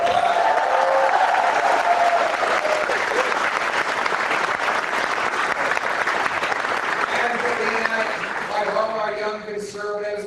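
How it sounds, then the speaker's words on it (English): Sustained applause from a crowd at a Conservative youth rally in Toronto, steady and loud throughout, with clapping tapering slightly near the end. "Give her a big round of applause."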